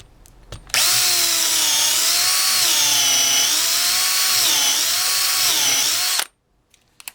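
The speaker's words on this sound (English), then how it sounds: "This is a number 10 countersink bit, and again, this one's not new." A Dewalt DCD710 cordless drill/driver spins a dull, well-used number 10 countersink bit into wood, a loud steady whine lasting about five and a half seconds with slight pitch wavers, then stopping abruptly.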